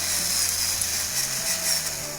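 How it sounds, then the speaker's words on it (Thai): A power drill bores a hole through a soft plastic bottle cap, giving a steady, continuous whirring hiss with a faint low motor hum for about two seconds, close by and with no voices. "ก็เจาะ ฝา ขวดให้มีขนาดเท่ากับ เจ้าฝานี้นะครับ"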